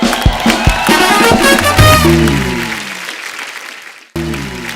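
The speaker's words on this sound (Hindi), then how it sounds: "और जो हमारे असली शायर हैं उनके लिए दिल खोल के तालियां।" Studio audience applause at a Hindi comedy show with poetry, loud dense clapping mixed with musical sting tones, fading out before a brief burst of applause resumes at the end.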